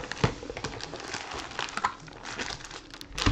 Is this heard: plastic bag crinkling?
yes